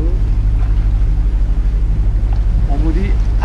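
A low, steady sailboat engine drone with a constant throbbing hum, running continuously and fairly close at sea off Sardinia, with faint voices briefly audible near the end.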